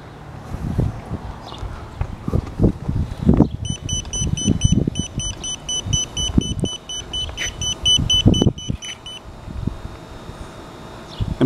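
A voltage detector held near overhead power lines gives off a rapid run of bright, repeated electronic beeps for several seconds, set against outdoor background noise with scuffing footsteps and passing traffic.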